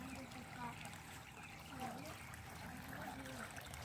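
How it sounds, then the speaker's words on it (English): Fresh water pours steadily into a garden koi pond, making a constant soft trickling and splashing wash that stays faint and even throughout. "Right now I'm putting some water in the pond."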